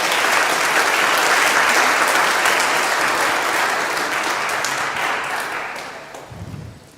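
An audience at a children's chorus spring concert applauds loudly for several seconds. The clapping stays steady, then fades out toward the end.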